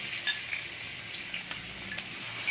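Chopped onions frying in a pan for mutton kheema, a soft steady sizzle with faint clicks and light stirring sounds, close and quiet, no speech.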